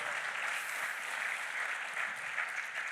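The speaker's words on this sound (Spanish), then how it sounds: "clap for the Lord" A church congregation claps for the Lord in steady, dense applause, loud and close, with no voices standing out.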